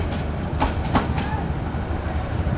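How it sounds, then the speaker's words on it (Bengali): Overcrowded Titas commuter train at Narsingdi station in Bangladesh, a steady rumbling rail roar with faint clickety-clack of wheels and brief bright squeals, moderately close and continuous. "পেছনে দেখুন উপচে পড়া একটি ট্রেন"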